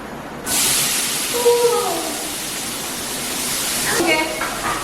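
Finely chopped onion tipped into a hot pan sets off a sudden, loud, steady sizzling hiss that holds for several seconds, with a brief voice murmuring underneath.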